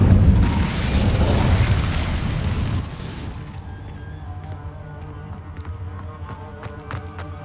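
A fire spell cast in the video game Hogwarts Legacy erupts in a loud, roaring burst that holds for about three seconds, then drops to a quieter backdrop with scattered sharp taps.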